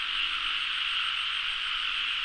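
Frogs calling after the first rain of the year, caught in a cast net, sounding as a dense, continuous chorus of high trilling croaks at steady loudness with no pauses and no voices.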